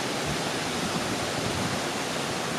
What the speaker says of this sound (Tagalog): nice kaayo ang falls.